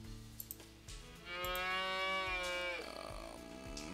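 Cows moo in a farming video game, a long drawn-out bellow rising loud and clear from about a second in and lingering to the end over faint game background, with no talk.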